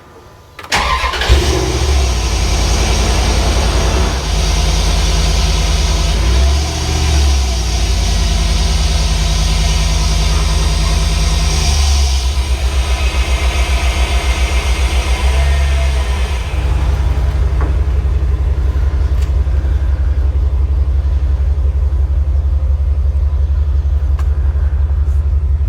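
A Dodge Dakota truck, its cracked exhaust freshly welded, cranks and starts, then settles into a steady, loud, close idle that holds for the rest of the clip with a deep rumble.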